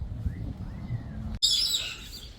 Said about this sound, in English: And over here guys are some birds.